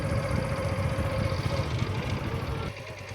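A motorcycle that has just stopped idles nearby in a village with guava trees, giving a steady low engine hum that drops slightly near the end.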